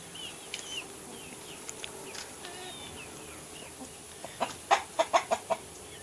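Chickens and a large rooster cluck faintly in an outdoor yard, ending in a short run of several clucks, with scattered small bird chirps in the background.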